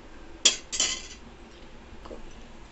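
A metal spoon knocks and scrapes against a cooking pot while rice is mixed in it, two quick clinks close together followed by a softer tap, close and clear with no talk.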